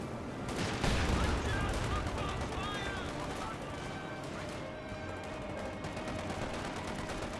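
Rapid machine-gun bursts and rifle fire crackle through a Company of Heroes 2 battle, steady and dense across the clip at moderate level, with scattered sharper shots over the continuous firefight.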